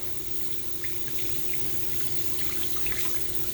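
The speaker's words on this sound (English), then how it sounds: "once you're done with your 20 seconds of hand washing, you rinse your hands well" Tap water running steadily into a sink while hands are rinsed during handwashing, a constant close hiss and splash with small irregular spatters, no talking.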